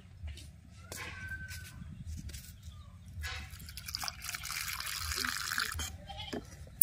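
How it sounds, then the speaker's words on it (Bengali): Water with dissolved batasha is poured into a pitha mixture, a soft, close liquid pour and splash building in the second half after quieter handling sounds. "এবার আমি এর মধ্যে দিয়ে দেব বাতাসা ভেজানো জল।"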